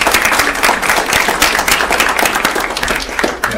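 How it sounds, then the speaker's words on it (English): At a school district board meeting, the audience gives the volunteer board members dense, loud applause, a continuous rush of many hands clapping close by with no talk. "So please give them a big round of applause for their dedication."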